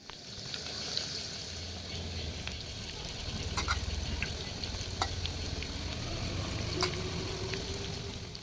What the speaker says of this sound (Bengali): তেলটা ভালো মতো গরম হয়ে গেলে একটা একটা পকোড়া এর মধ্যে দিয়ে দিচ্ছি